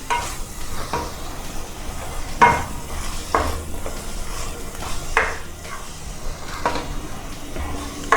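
Spoon stirring pasta sauce with red chili paste in a hot pan, steady sizzling with repeated scraping strokes against the pan, close and clear, no talking.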